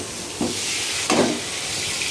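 Onion and chili hitting hot oil in a wok, a steady hiss of frying with two brief louder sizzling bursts as ingredients go in.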